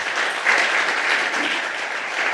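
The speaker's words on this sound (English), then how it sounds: "give him first a round of applause" A conference audience at a Python geospatial talk gives a short burst of steady clapping, close and even, with no voices on top.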